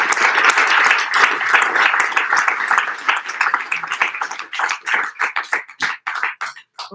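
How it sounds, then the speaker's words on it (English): An audience at a poetry book launch applauds, a loud spread of clapping that thins into a few scattered individual claps before stopping. "she should get a round of applause"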